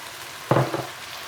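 Mushrooms and courgette hit a hot wok for a satay Madras curry, giving a sudden close sizzle with a brief stirring scrape before it settles back into quiet background hiss.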